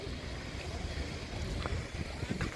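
Steady outdoor breeze rushing across an open plaza at India Gate on a pleasant day, a continuous broadband wind hiss with light gusty buffeting of the microphone, alone without talk.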